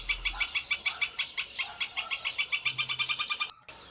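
A rufous hornero calls in a steady run of rapid, clear chirping notes that speed up into a fast trill, moderately near, with no voices.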